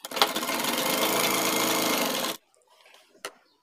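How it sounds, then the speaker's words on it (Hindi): A sewing machine stitches piping onto a shirt collar in one loud, steady burst of about two seconds, then stops abruptly, leaving faint rustling and a single sharp click. "बिल्कुल एक पैर की सिलाई लगाएंगे"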